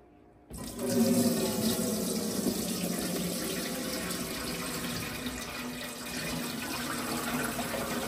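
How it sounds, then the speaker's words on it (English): Turkey broth poured through a strainer into a big stock pot, a steady loud rush of liquid that starts abruptly after half a second and continues unbroken to the end, with no talking. "I am going to first pour this into this strainer, into this big stock pot, so we can separate the broth from the turkey"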